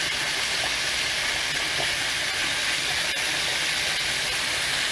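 Shrimp fry in a pan for shrimp scampi, giving a steady, loud, hissing sizzle that runs unbroken from start to finish with no talking.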